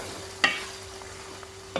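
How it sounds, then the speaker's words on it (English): A spoon stirs a crayfish and bitterleaf mixture in a pot for Cameroonian fried bitterleaf, giving two brief scraping clinks over a low, steady background hum. "Give that a good stir."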